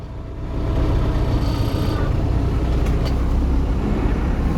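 Tractor engine running while clearing snow in winter, a steady, close mid-pitched engine drone with low rumble that holds evenly throughout, with no speech.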